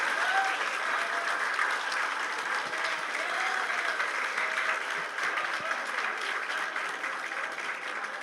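Sustained applause for Humberto at a general meeting, dense hand clapping from a crowd held at full loudness for several seconds, with faint voices mixed in underneath.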